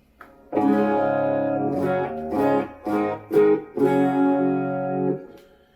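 A clean-channel electric guitar runs through a chorus preset on an H9 pedal alongside a Strymon Riverside, playing a handful of sustained, shimmering chords and notes in separate phrases with nothing else heard.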